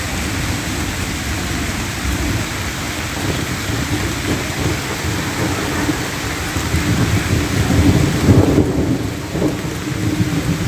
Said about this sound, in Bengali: দেখেন সকালবেলায় বৃষ্টি শুরু হয়ে গেছে।